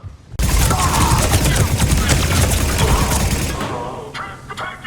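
Video game gunfire from an armed assault on a defensive outpost, a dense, continuous fusillade of rapid shots that erupts after a brief pause and roars loudly for several seconds before thinning out near the end.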